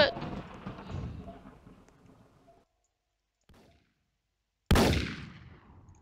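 Gunfire from a Roblox game set in Area 51: a burst of rapid shots at the start trails off into quiet, then a faint shot follows, and a loud sharp blast lands near the end.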